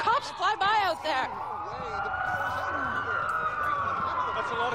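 Police sirens from the video game Watch Dogs wail close by, one warbling quickly before a long rising and falling tone takes over.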